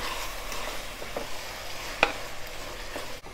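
Tomato rice being stirred in a pan after salt goes in, giving a soft, steady scraping and faint sizzle with one brief sharp clink partway through, quiet and without any voice.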